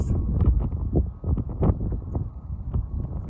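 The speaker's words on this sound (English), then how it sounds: "There's a little wind gust." Wind gusting against the microphone outdoors during a tennis mile challenge, a steady low rumble with buffeting bursts that swell and ease across the short stretch, loud and close with no talk.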